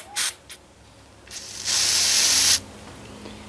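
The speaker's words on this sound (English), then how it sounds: "I'm going to give her a little bit more brake clean here." Aerosol brake cleaner sprayed onto a ZAMA CHU 168H carburetor: two short hissing bursts, then a louder sustained spray lasting about a second, close and loud.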